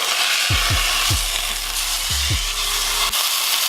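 A seasoned ribeye steak searing in a hot pan, a strong steady sizzle close by, with several low thumps and scrapes from the pan and a sharp click near the end.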